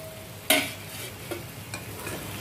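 Eggplant and potato pieces get stirred in a frying pan, opening with a sharp loud scrape of the spoon, then a few lighter strokes over a gentle sizzle, heard up close with no talking.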